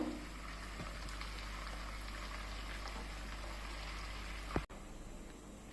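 Tomato pieces cooking with aloo curry in a pan give off a steady, low simmering bubble that holds evenly throughout, with a brief clatter near the end.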